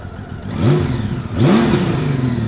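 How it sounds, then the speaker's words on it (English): A Honda Valkyrie motorcycle, just back from an oil change, revs twice in rising, throaty swells, heard close from the rider's helmet over wind rush during a ride. "I love the way this bike revs"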